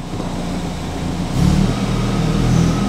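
A BMW 220i M Sport pulls away in first gear, its engine note rising partway through as it moves off, close and fairly loud with a steady mechanical drone.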